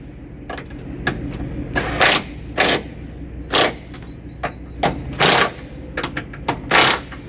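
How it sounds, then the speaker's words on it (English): A wrench tightening the strut tower nuts on a Chrysler front strut, giving a series of sharp metallic ratcheting clicks in short bursts, close and fairly loud, with brief pauses between them. "You can tighten it. I'm tightening it right now."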